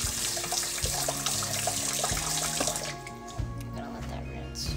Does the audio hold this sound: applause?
no